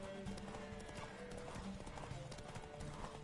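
A galloping horse in a video game, with rapid rhythmic hoofbeats and a faint whinny over steady game background sound.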